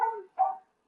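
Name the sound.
Cane Corso dog barking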